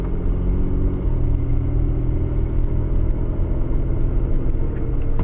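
A car drives on after completing a turn during a driving lesson, with a steady, close engine hum and road rumble running evenly throughout and no one talking.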